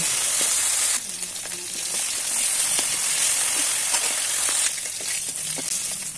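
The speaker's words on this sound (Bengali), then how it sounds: "একইভাবে বাকি মাছগুলোও ভেজে নিচ্ছি।" Pieces of tilapia fry in hot oil in a pan, giving a loud, steady, crackling sizzle that runs the whole time with small pops and faint stirring, and no talking.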